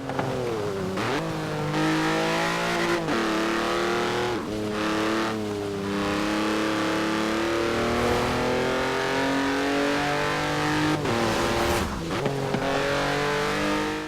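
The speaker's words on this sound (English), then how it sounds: "It does actually backfire, this car." Car engine in the racing game Forza Horizon 4, driven on a wet road: a loud, continuous engine note climbing and dropping through repeated gear shifts and revs, with brief crackles and tire noise and no talk.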